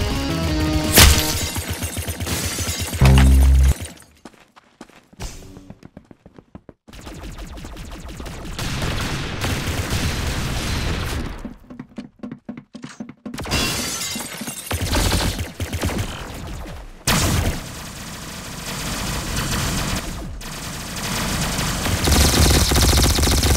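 Rapid automatic gunfire from the Roblox shooter Arsenal, dense bursts of loud close shots broken by brief quiet gaps, with no talking.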